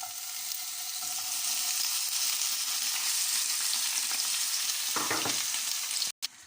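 Steady, close sizzling of food frying in a pan fills the whole stretch, with a few brief scraping stirs near the end.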